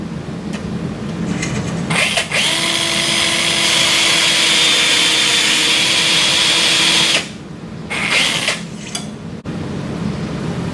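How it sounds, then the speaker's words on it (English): A loud, steady whine from a powered surgical carpal reamer cutting a sawbones bone model runs for about five seconds, with shorter bursts of the motor before and after. "drive over the guide pin until the nose of the reamer bottoms out on the screw"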